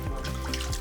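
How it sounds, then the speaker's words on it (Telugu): Water runs steadily from marble rock deep inside the Valmiki caves, a continuous close trickle and splash that lasts the whole brief moment with no voices. "పాలరాయి నుంచి వాటర్ వస్తుంది"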